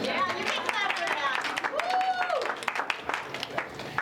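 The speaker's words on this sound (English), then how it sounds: "Yeah, you can clap for that." Audience applauding a Wisconsin US Senate candidate's speech, dense crackling clapping from a crowd throughout, moderately distant, with a voice briefly rising above it midway.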